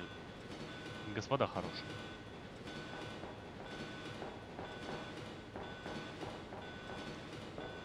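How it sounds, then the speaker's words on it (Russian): A moving train in the PS1 game Biohazard 1.5: a steady rumbling carriage drone with faint rhythmic clatter runs throughout, while someone speaks briefly over it. "И почему поезд уже едет?"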